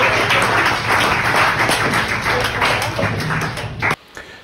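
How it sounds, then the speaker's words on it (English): Audience applause after a mentalist's stage performance, dense clapping filling the room for about four seconds, then cutting off abruptly near the end. "Everybody give us a round of applause."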